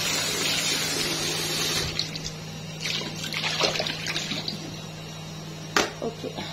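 Steady stream of running tap water splashing over food being washed, continuous and close, with occasional clatter and handling noises.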